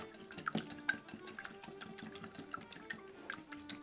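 Two whole eggs and two yolks are whisked in a bowl, making a quick, steady train of light clinks and taps close by, with no voices.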